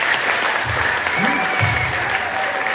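A high school percussion night audience applauds the percussionists with dense, continuous clapping from a large crowd, and a voice carries faintly over it.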